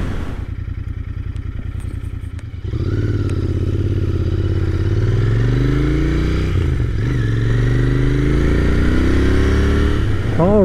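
A Royal Enfield Interceptor 650 motorcycle cruising in sixth gear at about 75 mph on an interstate, a loud steady engine drone with strong wind rush that rises slightly as it holds road speed.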